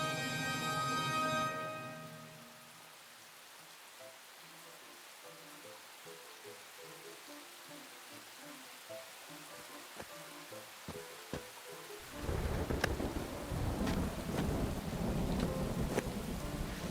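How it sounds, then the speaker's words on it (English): Rain sound effect in a radio drama, arriving as a sudden loud hiss of falling rain with sharp crackling bursts after a quiet stretch of soft music and faint clicks. "The rain fell in frigid sheets upon my burlap sack"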